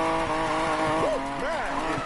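Tire squeal from a car drifting in the racing video game NFS Payback, a sustained engine drone with rising and falling screeches of the tires, loud and continuous with a voice over it.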